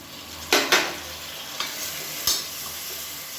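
Chopped tomatoes sizzle in hot oil while being sautéed for a mushroom biryani, with a few sharp stirring scrapes over a steady frying hiss and no talk.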